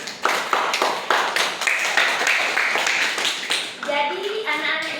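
Classroom of students clapping their hands together, a brisk burst of claps that gives way to a teacher's voice speaking near the end.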